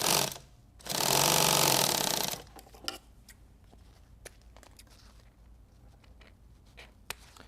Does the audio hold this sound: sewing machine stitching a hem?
yes